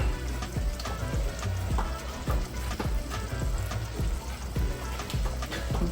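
A simmering seafood boil pot, with orange juice being added, bubbles and sizzles in a dense, continuous crackle of small pops, loud and close.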